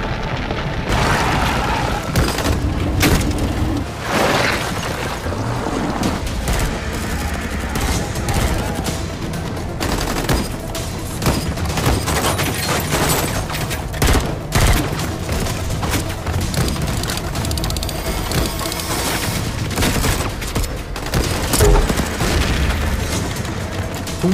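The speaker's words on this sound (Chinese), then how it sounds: "赶在布丽娜出山谷前，一发火箭弹轰掉山头碎石，挡住他的去路" A rocket blast and a gunfire battle in a Russian special-forces action drama, with dense booms and rapid bursts of shots rolling on loudly and continuously under the film's soundtrack.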